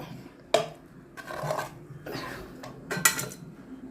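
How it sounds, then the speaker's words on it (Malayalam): A ladle scrapes and clinks against a metal pot while cooked sardine curry is scooped out, with a few sharp metallic knocks between softer wet scraping, close and fairly quiet. "ഇതൊക്കെ കോരി എടുക്കാം"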